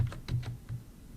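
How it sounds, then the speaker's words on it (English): Quick bursts of keystrokes on a computer keyboard while an IP address is typed, a short run of close, faint clicks with no voices. "and then I'll type in the IP here"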